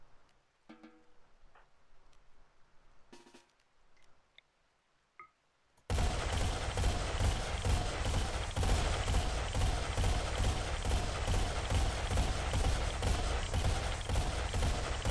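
RimWorld gunfire: after a few faint clicks and near silence, a sudden dense fusillade of rapid shots erupts and keeps going, loud and unbroken for about nine seconds.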